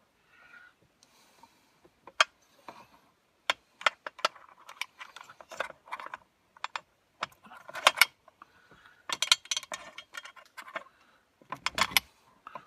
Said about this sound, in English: The throttle gets put into this housing.